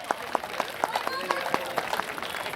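An audience at a Catholic parish day celebration claps to welcome a sister, with fairly quick, uneven handclaps going on and a voice talking over them.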